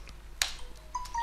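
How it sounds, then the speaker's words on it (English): A mobile phone notification sounds once as a short, faint run of high electronic tones after a sharp click, heard indoors in a quiet room. "that's my phone going off"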